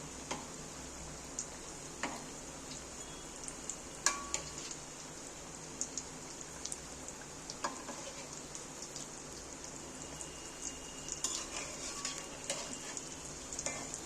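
Flour-and-cabbage pieces fry gently in a pan over a low gas flame, a soft steady crackle and hiss running throughout with occasional light clicks as pieces are turned one by one.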